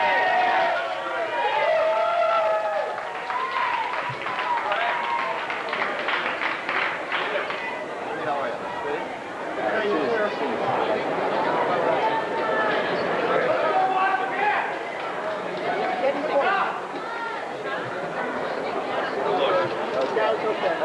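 A packed stadium crowd at the 1994 US Open cheers and applauds as the players walk onto the court, a dense, steady roar of voices and clapping throughout.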